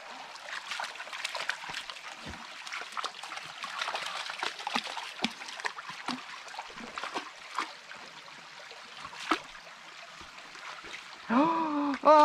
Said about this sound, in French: Et voilà, petite pause dans un ruisseau.